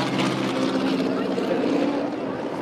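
A single airplane flies over the Mondello race track during an air show, giving a steady, loud engine drone that holds throughout without a break.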